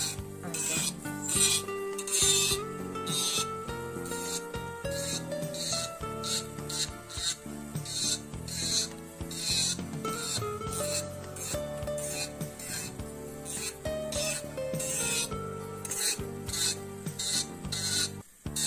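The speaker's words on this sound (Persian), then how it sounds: "ببینید به این صورت سوهان کشیدم." A gel nail being shaped with a nail file, a fast rhythmic rasping of repeated close strokes continuing steadily, with no talking.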